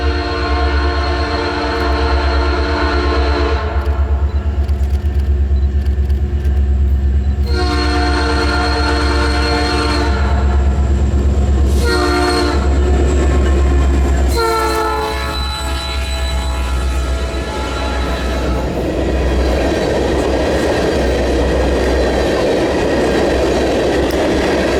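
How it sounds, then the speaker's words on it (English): Northbound freight train led by an EMD SD40-2 with a Nathan P3 horn and a trailing SD40i rolls past close by, with a long steady rumble, repeated horn blasts early on, then rising wheel and car noise as the consist passes. "the next northbound train made its way through"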